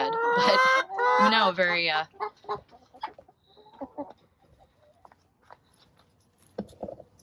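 Backyard chickens, among them a brown-egg-laying Rhode Island Red hen, give loud clucking calls at first, then softer scattered clucks and pecking-like clicks follow, with a brief bit of speech.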